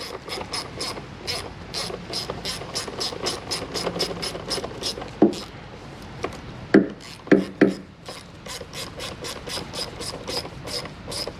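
Rapid, steady ratchet clicking while bolts on a Chevy Impala fuse box are snugged down, with a few louder metallic knocks partway through; close and alone, no talk.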